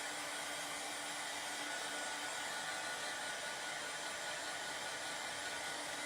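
A hair dryer blows steadily at close range to dry a wet surface before a farmhouse tile transfer goes down, a constant even whooshing hum with no talking.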